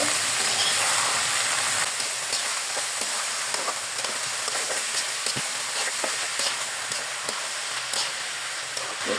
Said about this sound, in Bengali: এখন ভাজিটাকে ভালো করে নেড়ে নিব